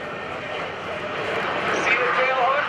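An F/A-18C Hornet jet makes a carrier configuration pass at an airshow at NAS Oceana, a steady loud roar of jet engine that swells slightly as it nears.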